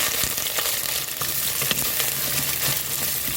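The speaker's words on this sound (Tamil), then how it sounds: "கொஞ்சம் ஒரு வெங்காயம், கொஞ்சம் கருவேப்பிலை அதையும் போட்டுக்கிறோம்." Onion and curry leaves fry in hot oil in a pan for a Tamil-style broad bean and brinjal kuzhambu, with a steady close sizzle and crackle and no talk.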